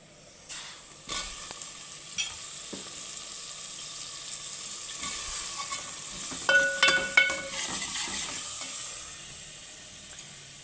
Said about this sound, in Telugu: ఇప్పుడు ఫస్ట్ వంకాయలు వేద్దాం.